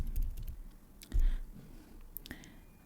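Typing on a computer keyboard in a web browser: a few quiet, close key clicks and taps scattered over a few seconds, sparse and irregular with no speech.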